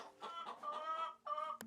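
Hens clucking in the video game Girl of Glass, a run of close, bright clucks and short calls with a brief sharp peck-like click near the end, no talking.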